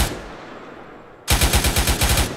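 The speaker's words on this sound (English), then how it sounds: "I'm gonna start firing as well." Automatic gunfire in the military game Arma bursts in after a quiet stretch, a loud rapid string of about a dozen close shots in a steady rhythm, with no talking over it.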